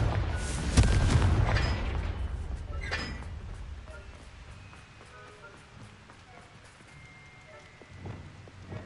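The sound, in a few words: Confringo explosive spell blast in the video game Hogwarts Legacy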